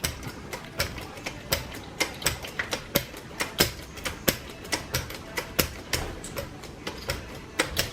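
Sharp, rapid metallic clicks and taps repeat in a fast irregular rhythm up close as a 6-lug axle is pressed back into the housing of a 1991 Toyota Hiace, with no voices.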